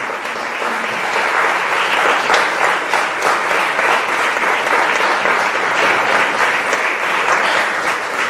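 Steady, full applause fills the space as an audience in Assisi welcomes the polyphonic choir Canto Libero onto the stage, holding at an even, energetic level throughout with no break.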